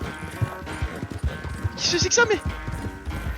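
A panicked horse in Red Dead Redemption 2 clatters its hooves in quick uneven clip-clops and lets out a short whinny partway through, while someone speaks French over the commotion.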